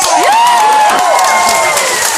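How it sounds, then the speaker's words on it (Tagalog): Audience at an M Global company event clapping and cheering loudly after being urged on by an emcee, with energetic shouts and whoops over continuous applause, close and intense. "Sumpahan mo M Global, pumalakpak ka!"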